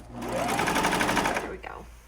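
A sewing machine stitches a kids' hoodie in one steady, fast-running burst of rapid mechanical chatter lasting under two seconds, close and loud, then stops.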